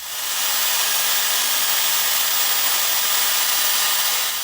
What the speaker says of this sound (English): I'm going to spray it red because I know that works nicely